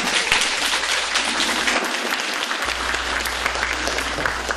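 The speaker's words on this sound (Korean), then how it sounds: "이 대목에서 반드시 박수가 나오게 되어 있습니다." A crowd of university students at a lecture by a steel company CEO applauds steadily, dense clapping from many hands that keeps going for several seconds without a break.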